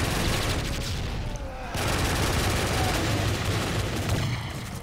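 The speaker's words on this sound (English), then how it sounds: "Flashbang." A flashbang grenade going off in a co-op video game: a dense, loud, sustained roar that fills the whole stretch, with one brief dip partway through before it surges back.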